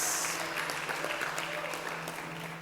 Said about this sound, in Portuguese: Aplauda mais forte o santo nome de Jesus.